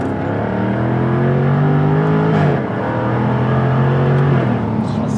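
A Jaguar F-Type R with 575 hp accelerates hard, its engine note climbing loudly through the revs, dipping briefly at a gear change around midway, then rising again, heard from inside the car.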